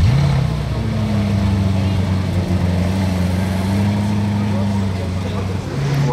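A Novitec-tuned sports car rumbles nearby with a steady, loud low engine drone that holds throughout, rising slightly in pitch, amid outdoor crowd noise.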